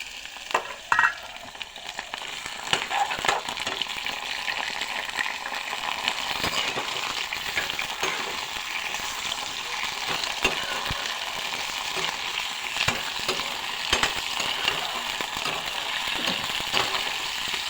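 Chicken pieces fry in oil in a pan with a steady, close sizzle and crackle that holds throughout, punctuated by occasional sharper pops and clinks, with no voices.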